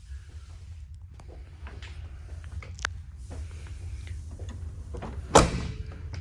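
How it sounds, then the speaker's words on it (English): A 1978 Ford F150 short-bed 4x4 pickup door shuts with a single solid, sharp thunk near the end, after soft handling clicks over a low outdoor rumble. "Look how that door shuts."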